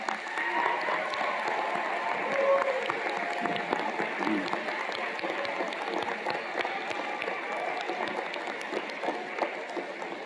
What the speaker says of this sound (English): give the faculty a round of applause